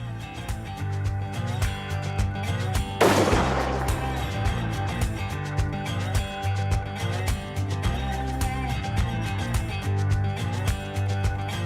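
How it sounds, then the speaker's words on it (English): A single loud rifle shot fired at a buck during a ranch deer hunt, a sharp crack with a short rolling tail, heard over steady background music that runs throughout. "Should I shoot? Yeah, there's your shot."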